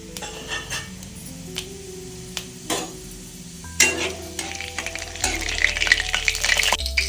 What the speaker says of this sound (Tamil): சோம்பு மட்டும்தான் தாளிக்குது.